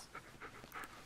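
A dog panting in the Blair Witch video game, a few quick, soft breaths in a short rhythmic burst, faint and close.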